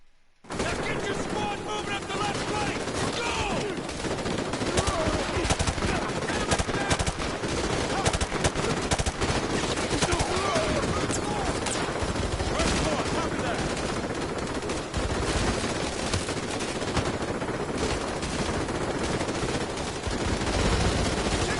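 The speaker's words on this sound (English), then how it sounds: "Oh, it's so annoying because of the machine guns and the snipers." Call of Duty: Modern Warfare 2 Remastered campaign combat brings dense, sustained machine gun bursts and sniper shots with loud, continuous gunfire throughout, and a voice speaks now and then under it.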